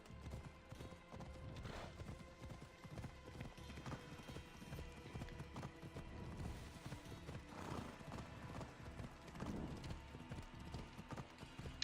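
Repeated hoofbeats of a horse trotting in Assassin's Creed Odyssey, moderately close over a quiet ambient bed, with an occasional snort or whinny-like sound mixed in.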